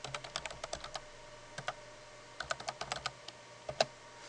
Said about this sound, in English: I'll type in my username that I made for this screencast